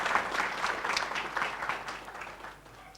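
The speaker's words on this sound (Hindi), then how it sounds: "तालियां युवान के लिए।" An audience at a devotional satsang gathering claps for a child named Yuvan, a brief, moderately loud burst of applause that thins and fades over a few seconds.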